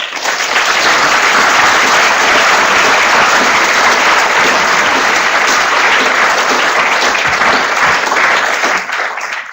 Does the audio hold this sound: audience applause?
yes